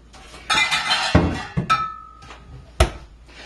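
A bowl and a measuring cup handled in a kitchen while preparing tomato sauce: several sharp clinks and knocks, plus a thunk and scraping contact, irregularly spaced and close up, with no speech.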